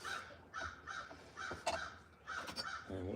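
Crows caw outside a workshop in a loose series of harsh, rasping calls, fairly distant and steady, with no voices.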